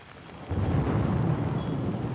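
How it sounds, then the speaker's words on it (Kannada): Rain falling during a storm in Karnataka: a steady broadband wash of rainfall with a deeper rumble that swells after a quiet start and holds, no speech. "ಹಲವೆಡೆ ಮಳೆರಾಯನ ಸಿಂಚನವಾಗಿದೆ"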